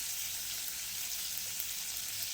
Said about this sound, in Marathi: या पद्धतीने आपण सगळे चिकनचे पीसेस या पॅनवर ठेवून